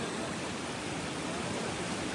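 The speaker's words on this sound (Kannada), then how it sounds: "ಇಲ್ಲಿ ನೀರಿನ ಆರ್ಬಿಟ್ಟು ಭಾಳ ಸ್ಪೀಡ್ ಅದ" Fast-flowing floodwater pours out of a lake filled by rain, making a constant, dense rushing roar with no pauses or voices.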